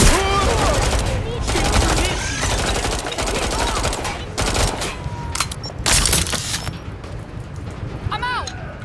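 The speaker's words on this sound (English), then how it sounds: "I'll just go in guns blazing" Gunfire in the video game Watch Dogs: Legion, dense bursts of automatic shots and impacts filling most of the clip, loud and continuous with brief gaps, with a voice briefly audible among the shooting.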